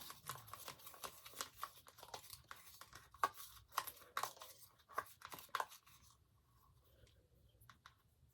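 Paper number slips rustle and scrape as they are stirred inside a lidded container, with quick, irregular scratchy bursts that fade into near quiet toward the end.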